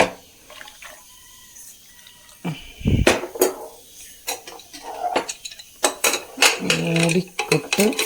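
Metal clanks and scrapes as a pressure cooker lid is fitted and locked over a pot of taro with water, salt and turmeric, in a series of close, irregular knocks and clicks without talking.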